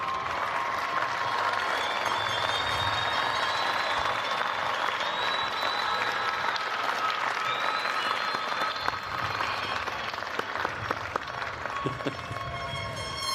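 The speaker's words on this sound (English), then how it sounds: "give them a wave and applaud them and say thank you" A commencement audience at Bridgewater State University's 2022 undergraduate ceremony applauds family and friends in a long, steady, loud wash of clapping and some cheering, with a few whistles on top.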